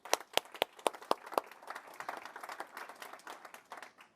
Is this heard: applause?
yes